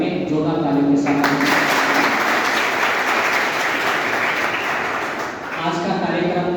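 Loud, dense applause from a crowd at a school ceremony honouring centenarian voters, sustained for several seconds before tapering off, with speech faintly audible at the start and end.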